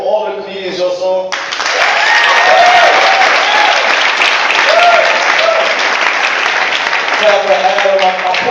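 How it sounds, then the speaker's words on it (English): A comedy club audience at Gotham Comedy Club in New York claps for the comedians, loud sustained applause with a few voices rising over it, framed by someone talking briefly before and after. "Y'all clap real quick, man, for all the comedians y'all saw."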